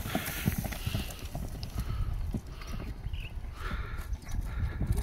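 A horse's hooves clip-clop steadily and fairly close on hard ground, a continuous walking rhythm with some outdoor background noise.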